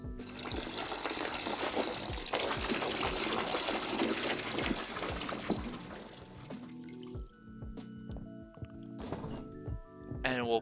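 Cooled beer wort is poured from one vessel into a fermentation container, a strong gushing stream for several seconds that thins to trickles and scattered drips.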